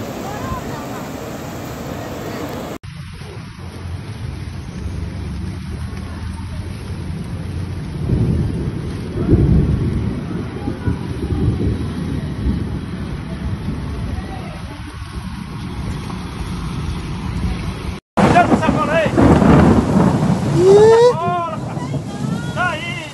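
Heavy rain and thunderstorm in Brazil's Northeast, a loud, steady roar of rain with deep rumbles and gusty wind buffeting the microphone, and a person talking over it.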